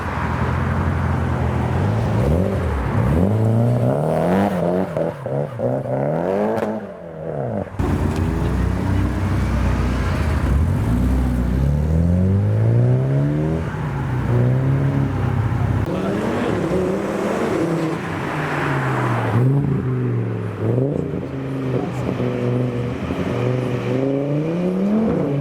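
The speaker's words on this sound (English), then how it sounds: "Neons and an S14 leaving the show." Nissan S14 and Dodge Neon cars rev loudly as they leave a Japanese car meet, engines rising and falling through repeated throttle blips that continue without a break.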